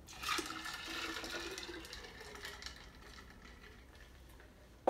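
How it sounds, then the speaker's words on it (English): Ice and juice being poured into a pitcher that already holds a little water for cantaloupe lemonade, a faint splashing rush of liquid that tapers off over a few seconds. "I'm gonna add my ice and then add my juice."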